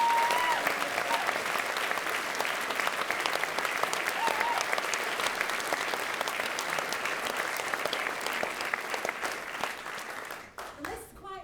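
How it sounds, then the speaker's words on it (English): A theatre audience gives a long, steady round of applause for the production's supporters at a livestreamed show. Dense clapping fills the room and fades near the end. "So we've got a couple of supporters that I'd like to give a huge round of applause to."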